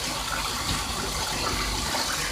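Pet goose wading in a bathtub filled with water, producing a constant rushing, gushing wash of water sound, close and loud throughout the short stretch, with no talking heard.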